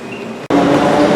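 Interior of a small airport tram at Houston airport: a steady loud rumble and hiss of the moving car, with a brief sharp dropout just before the noise swells and continues.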